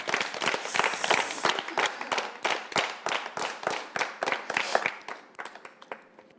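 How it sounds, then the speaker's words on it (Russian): Studio audience at a televised talk show breaks into vigorous applause, a dense, loud patter of many hands clapping steadily for several seconds before thinning slightly toward the end. "Соответственно, под бурные аплодисменты."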